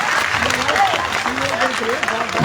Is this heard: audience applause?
yes